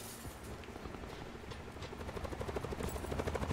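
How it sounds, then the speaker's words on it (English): A helicopter from the Call of Duty Black Ops 4 Blackout battle royale mode, its rotor thumping steadily and growing louder and more pulsing as it approaches, with no talk over it. "I'm shooting at the heli."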